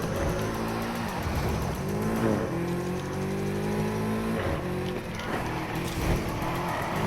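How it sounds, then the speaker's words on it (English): Nissan Skyline drifting in a video game, engine revving in long rising and falling sweeps with continuous tire squeal, loud and close throughout. "That's a pretty good drift I got."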